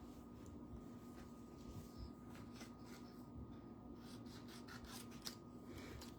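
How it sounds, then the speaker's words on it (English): Steady rasping and rubbing of scissors working through paper, close and continuous, with a low background hum and no talking. "we're going to be cutting it out"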